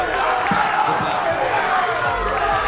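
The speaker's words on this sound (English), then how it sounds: "And the Durham fans in the crowd up off their feet" Durham supporters in the crowd at a women's university volleyball championship final against Essex keep up a loud, continuous wash of cheering and shouting in an indoor hall, with a few thumps and bounces beneath the roar.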